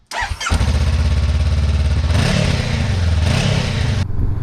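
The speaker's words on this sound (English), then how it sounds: "The exhaust sounds not bad." A Honda CB500X motorcycle engine starts and runs loudly nearby, with a deep, throbbing exhaust note that rises in a couple of brief revs.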